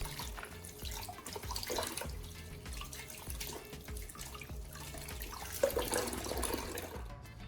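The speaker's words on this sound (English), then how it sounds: "Rinse it well and dry it completely with a clean towel." Knife blade rinsed under running water from a tap, a steady close splashing stream with light clatter and a small knock near the end.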